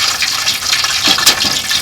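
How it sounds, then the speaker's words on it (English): Juices from a 10-pound Thanksgiving turkey drain and drip into a pan, giving a steady close trickle with small splashes and a brighter spatter near the end, with no talk over it. "It's dripping now."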